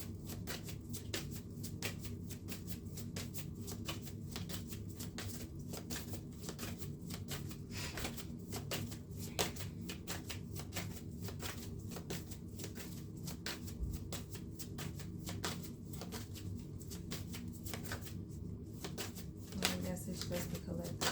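Tarot cards shuffled by hand in a steady, continuous run of rapid soft flicks and taps, close and quiet, with faint talking underneath.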